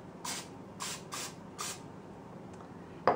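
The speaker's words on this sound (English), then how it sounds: "and spray it with Pam first" Pam cooking spray hissing onto a metal tablespoon in four short, evenly spaced bursts, close and clear over a steady room hum, followed by a soft clink.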